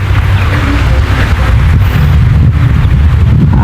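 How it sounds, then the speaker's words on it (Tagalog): Steady, loud wind buffeting the microphone with a low rumble, with a soft hiss of light rain underneath throughout. "ambon at saka hangin"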